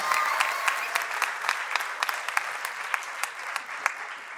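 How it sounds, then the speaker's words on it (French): Steady applause from a cosplay contest audience at an award announcement, a dense wash of clapping with a few sharper claps standing out, sustained at even loudness throughout. "Vous pouvez applaudir encore."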